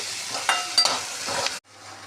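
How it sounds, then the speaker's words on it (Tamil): Ladies finger okra frying in a pan, a close hissing sizzle with quick scraping stirs of a spatula, cutting off abruptly to a quieter hum near the end. "ஃப்ரை ஆகட்டும்."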